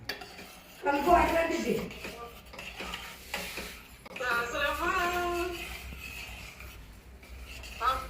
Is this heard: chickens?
no